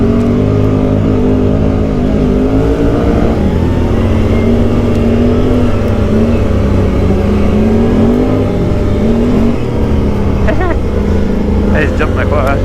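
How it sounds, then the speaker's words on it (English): A quad ATV on large tires with ELKA suspension revs and runs along smooth trails, its engine droning loudly and steadily throughout with shifting pitch, while a voice talks over it. "I just jumped my quad."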